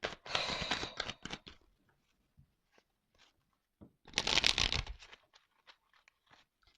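Tarot cards are shuffled close by in two dense bursts of riffling and crunching, separated by quieter scattered taps and card handling, with no speech.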